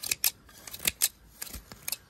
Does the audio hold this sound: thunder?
no